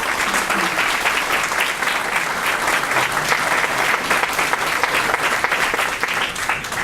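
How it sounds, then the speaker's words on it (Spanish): Strong, sustained applause from an audience at a Puerto Rican book presentation honoring a late doctor, dense steady clapping filling the room at an even loud level with no voices on top. "para quien también pido un fuerte aplauso"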